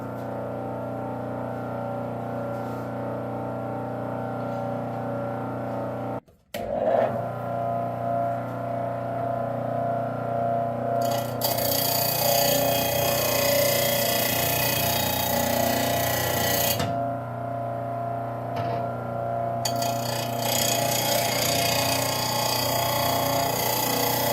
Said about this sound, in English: we're gonna fire this up, see what kind of, maybe run a blade through it